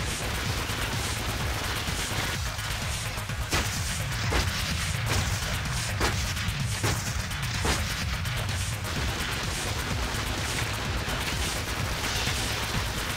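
Gauss cannon shots in the sci-fi tower defence shooter Sanctum 2 crack out as several sharp bursts over a thick, continuous wash of battle noise.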